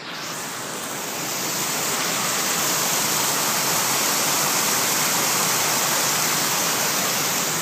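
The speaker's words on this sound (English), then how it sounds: "The water, that's the Mississippi River, by the way, pouring over this road and heading off in the distance behind me" Mississippi River floodwater pours over a road near West Alton, Missouri like a small waterfall, a loud, steady, continuous rushing roar that fills the scene without pause.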